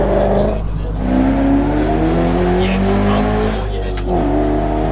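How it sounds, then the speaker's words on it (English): A Ford GT40 race car at a hillclimb roars loudly and close with a sustained, shifting engine note as it drives hard, pitch dipping and rising through gear changes. "This is Krusty in his GT40 again, flying around."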